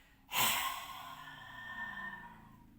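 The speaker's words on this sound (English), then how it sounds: "Big inhale and then exhale." A single forceful yoga exhale, lion's breath style, bursts out sharply and then trails off into a long breathy fade, close and fairly loud with no talking.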